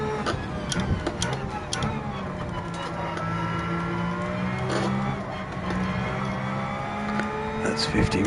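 A race car's engine in Gran Turismo 7 revs, its pitch climbing and dropping through the gears in a steady drone, with a voice heard at moments.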